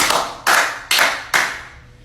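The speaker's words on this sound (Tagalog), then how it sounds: "bigyan niyo ng 3 palakpak" Three sharp hand claps ring out at an even pace, close and loud, and each one fades quickly before the next.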